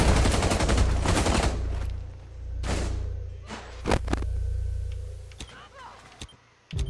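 Shotgun blasts in the tactical shooter Rainbow Six Siege, several loud separated booms at uneven intervals with reverberant tails, mixed with game sounds and a voice chatting over it.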